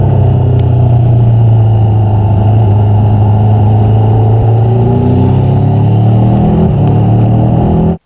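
A 2022 Triumph Tiger 1200 GT Pro motorcycle's three-cylinder engine drones loud and steady on the road, a constant close rumble with rising and falling pitch and wind noise, with no talking.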